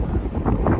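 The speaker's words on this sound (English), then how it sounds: "It's really windy." Strong wind buffets the microphone outdoors on the Las Vegas Strip, a steady low roaring rumble with gusting swells throughout and no voices.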